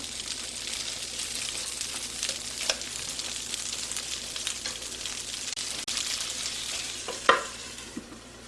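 Twenty shrimp sizzle and crackle as they fry in melted butter in a pan, a steady close hiss with small pops and a sharper spatter near the end, no voices.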